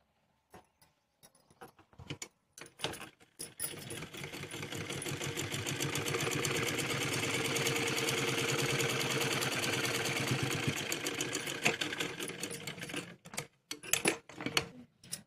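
A sewing machine runs steadily, putting a pressing stitch along a full-flare Punjabi Patiala salwar. The fast mechanical whir builds after a few short starts, holds for several seconds, then breaks into brief bursts near the end.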